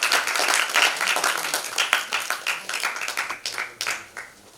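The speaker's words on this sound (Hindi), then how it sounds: "जोरदार तालियों का स्वागत।" An audience applauds to welcome a guest at a stage event, a burst of clapping from a crowd that starts strong and loose, settles into fairly steady claps, then fades out within a few seconds.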